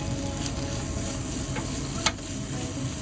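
Onion, scallion, zucchini, green and red chili and shiitake mushrooms stir-fry in a hot pan, a dense steady sizzle with a couple of brief scraping clicks from the spatula.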